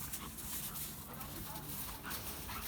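A dog gives low barks and whimpers in cold weather, mixed into a steady, noisy background with muffled human voices throughout.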